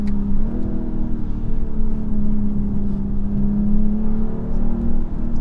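Heard from inside, a BMW M240i xDrive pulls hard in a sustained, loud engine drone, steady after an early gearshift, with faint road and wind noise and no one talking.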